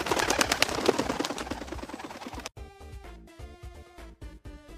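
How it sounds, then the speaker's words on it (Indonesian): Loud, rapid fluttering of wings flapping for a couple of seconds, then it cuts off abruptly into sparse tonal chirps and notes. "sound efek burung terbangnya kencang, seolah-olah burungnya terbang kencang"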